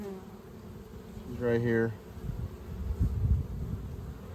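Honeybees buzz steadily around an open frame of eggs and larvae from a horizontal hive during a split, with a brief voice breaking in over the hum.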